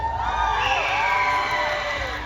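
A festival crowd at an outdoor Philippine festival in a Tokyo park shouts and cheers for a contestant, a dense roar of voices with rising whoops, loud and sustained throughout.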